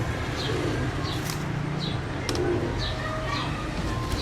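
Soft, repeated cooing of pigeons over a constant noisy background with faint murmuring voices.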